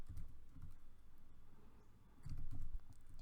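A short burst of typing on a computer keyboard, with quick, uneven clusters of close keystrokes at low volume and no speech.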